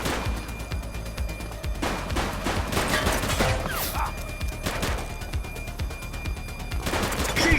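Gunfire fills a firefight in the police video game The Precinct: repeated sharp shots and rapid bursts come in clusters, loud and close, with a sustained flurry around the middle.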